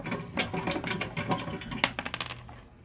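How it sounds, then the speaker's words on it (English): Hand-cranked nutcracker cracking pistachios, giving a rapid series of sharp clicks, cracks and rattling shells at close range, irregular and busy, with no speech. "This is a nutcracker type thing. We pour the nuts in here like this. We crank it,"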